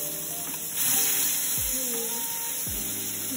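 Fish fries in a hot pan with a steady close sizzle and crackle, joined by a couple of sharp clatters from the pan or utensil.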